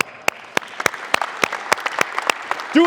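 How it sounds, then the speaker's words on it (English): A small group at a coaches' clinic claps in a steady, evenly spaced beat for a player's rep, each clap crisp and distinct. A voice begins right at the end. "Clap it up for him."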